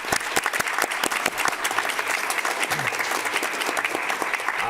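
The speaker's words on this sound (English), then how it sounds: "let's give her a round of applause." Hearing-room audience at a House Oversight Committee session breaks into steady, moderately loud applause, dense clapping continuing evenly for a few seconds.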